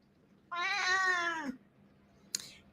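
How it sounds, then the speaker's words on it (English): A cat gives one drawn-out, clear meow lasting about a second, followed after a pause by a brief faint squeak; no one speaks. "And Ocean's meowing."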